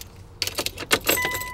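Car keys jangle and click as they turn in the ignition, a short close burst of metallic rattles followed by a faint electronic tone as the power comes on.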